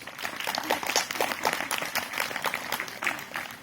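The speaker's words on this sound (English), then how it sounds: "Give yourself a round of applause." An enthusiastic young audience at a summit gives a sustained round of applause, dense overlapping clapping that rises and falls steadily for several seconds with no voices on top.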